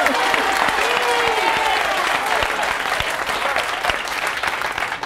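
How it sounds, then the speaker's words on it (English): An audience applauds an Organization of the Year award for a family recovery center. The clapping is loud, dense and sustained, easing slightly toward the end, with some faint voices mixed in. "That's some clapping right there."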